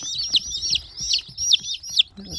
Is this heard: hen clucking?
yes